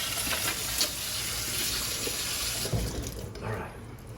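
Water tap running into a kitchen sink as a cook rinses meat off dirty hands, a steady close splashing rush with small shifts as hands move under the stream.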